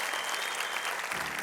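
A crowd at a motivational talk claps in a short, lively burst of dense applause lasting about a second and a half.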